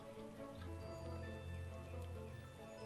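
Rain falling in the video game Starbound, a dense, even hiss of drops holding steady and close for a few seconds, with faint tones from the game sounding over it.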